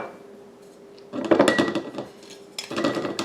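Yeast starter ingredients are stirred together in a jar with a utensil: after a quiet second, bursts of close clinking and scraping against the glass follow, with a short pause before the mixing resumes.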